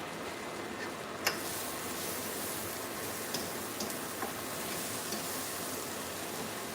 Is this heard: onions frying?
yes